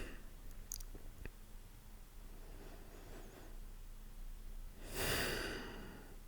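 A long exhale during a seated yoga twist, a soft breath rising into a louder, close, breathy rush near the end, preceded by a couple of faint clicks and quiet room noise.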